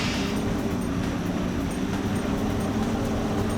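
Jeep boost in a PS2 racing game: a steady, dense roar of engine and wind noise, loud and unbroken, with no voices.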